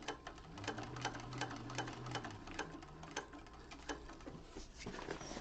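A sewing machine top stitches the lining of a zipper bag in a class, quick clicking needle strokes in short uneven runs with brief stops, close and fairly quiet with no talk over it.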